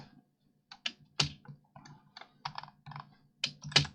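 Computer keyboard keys pressed for SketchUp shortcuts, a sparse series of close, crisp clicks and taps in irregular clusters over a quiet background.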